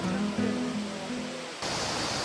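Koćuša waterfall on the Devetoimena river gives a steady, close, broadband rush of falling water, with a faint low hum at first.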